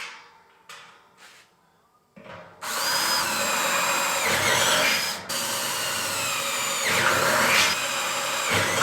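A drill fitted with a hole saw bit cuts a hole in a steel drum for a smoker build, starting with a few short bursts and then grinding loud and steady with a harsh metallic whine, alone without speech.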